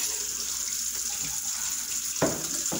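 Kitchen tap running steadily while reusable coffee pods are washed under it, a continuous hiss of water with a couple of brief splashes or clatters near the end, close and fairly quiet.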